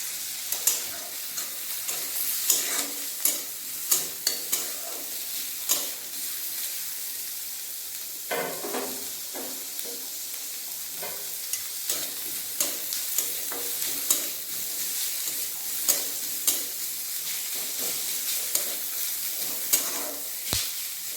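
Garlic, ginger, green chillies and whole cumin frying in hot oil in a pan, a steady close sizzle broken by repeated sharp scrapes and clacks of a spoon stirring, no talk.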